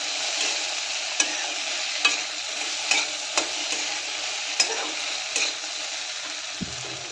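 Okra fried in a pan with turmeric is stirred for a besan okra dish. A steady, dense sizzle runs throughout, broken by sharp, regular scrapes and taps of the spoon against the pan.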